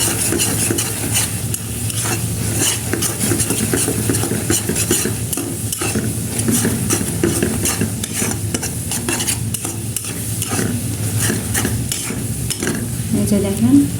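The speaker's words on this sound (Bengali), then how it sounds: "আমি অনবরত নাড়তে থাকবো আমটা, যাতে আম নিচে লেগে না যায়" Sweet raw mango pickle with roasted cumin powder sizzles loudly in a pan while a utensil stirs and scrapes it steadily and nonstop, close by.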